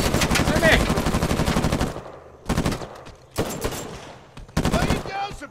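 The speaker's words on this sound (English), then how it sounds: "Lay it down, suppressive fire." Rapid machine gun bursts in an Uncharted 4 team deathmatch on Madagascar City, one long loud burst followed by three shorter ones separated by brief pauses.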